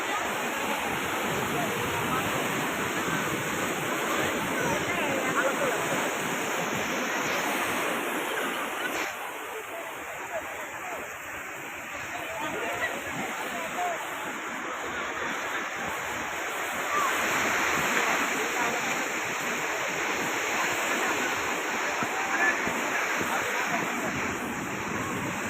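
Sea waves at Puri beach roll and break in a steady, loud, broad wash that continues throughout, with a brief dip in the surge partway through.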